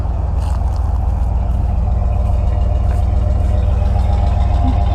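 A 1999 Dodge Dakota Sport's 5.2-litre Magnum V8 idles continuously, a steady, low rumble, deep and even with no revving, close by.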